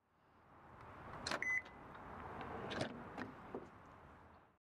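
A Fuso eCanter electric truck's door locks actuate by remote button, giving a quiet whirring mechanical clunk with a short beep-like tone, then a second lock clunk a moment later, heard close and alone.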